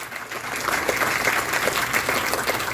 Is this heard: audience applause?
yes